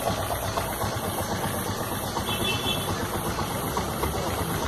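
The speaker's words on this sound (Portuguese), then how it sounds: "Diferenciada a motinha, meu mano." Small motorcycle engine idling steadily at close range, a continuous rough mechanical rumble with slight knocking and vibration and no pauses.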